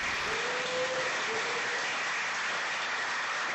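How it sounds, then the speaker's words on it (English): An audience at a panel on women in space applauds in a steady, even, fairly faint wash of clapping that holds from start to finish. "So we're going to give her a round of applause."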